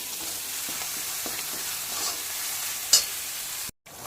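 Ground coconut being stirred into tomatoes frying in a pan, a steady close sizzle with soft scraping stirs and one brief clink near the end.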